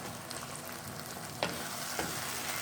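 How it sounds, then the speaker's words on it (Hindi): Mashed brinjal bharta being pressed and stirred in a frying pan, a steady low sizzle with two sharp scraping strokes of the spatula against the pan. "ऐसे जो है हम लोग इसको प्रेस करते जाएंगे ताकि ये अच्छे से जो है मिक्स होता रहे"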